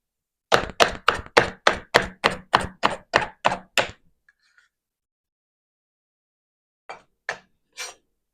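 A knife chops vegetables on a board for homemade chicken soup: about ten quick, even strokes in a steady rhythm, then a pause and three more cuts, close and clear with no talk.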